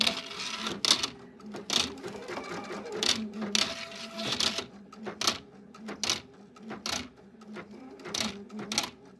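Sewing machine fitted with a ribbon embroidery attachment stitching fabric, a close mechanical whirring in repeated short bursts with brief pauses, plus faint clicks and light background noise.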